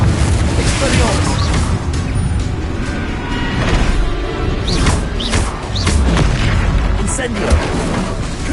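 Spell explosions in the video game Hogwarts Legacy, a continuous, loud barrage of booming blasts and crackling impacts with rumbling low end, one burst after another with no talking.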